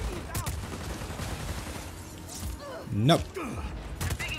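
Gunfire in Just Cause 4 during a chaotic tornado scene: scattered shots and thuds under a man's loud, excited talk, with one heavier burst near the end.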